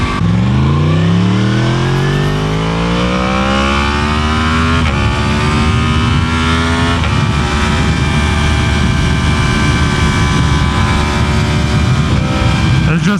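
A Yamaha MT-10 motorcycle accelerating hard, its engine note climbing loudly through the revs with a shift and then a sustained roaring pull and heavy wind rush, very close and loud throughout.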